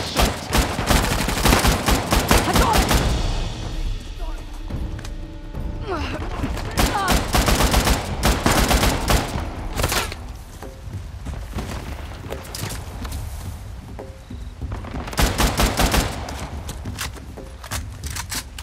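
Rapid gunfire bursts in the video game Uncharted: The Lost Legacy, loud and close, with dense automatic volleys at the start and end, sparser shots in between, footsteps and some voices in the mix.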